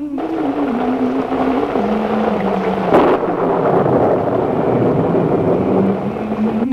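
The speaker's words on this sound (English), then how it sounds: "when it was stormy" Rumbling thunderstorm with a low rolling roar, steady rain and a sharp crack of thunder about halfway through, loud and continuous with no voices.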